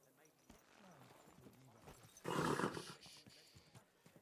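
Horse in Kingdom Come Deliverance, soft hoof steps followed by a loud, breathy snort burst in the middle, with quiet game ambience around it.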